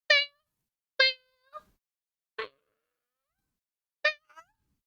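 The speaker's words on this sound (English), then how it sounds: "Funny kitty sounds." Cartoonish cat meows from the video game Backpack Hero, four short high tonal mews spaced across a few seconds, each sometimes trailed by a smaller chirp, sharp and clean against silence.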